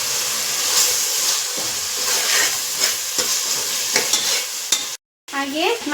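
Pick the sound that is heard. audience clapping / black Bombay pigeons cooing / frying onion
frying onion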